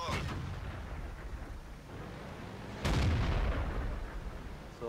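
A tank cannon fires in World of Tanks as a single heavy booming shot near the start of a second burst, set against a constant rumbling engine drone.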